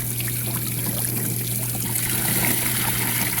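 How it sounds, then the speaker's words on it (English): A water pump pushes aquarium water from a 29-gallon tank into a tote, giving a steady trickling, gushing flow over a constant motor hum, close and even throughout with no talk. "I'm going to pump it into this tote. Well, I took the pump on,"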